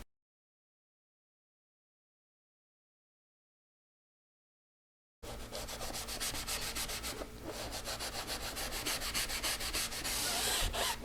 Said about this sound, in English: Ivan does show that you can use a brush on it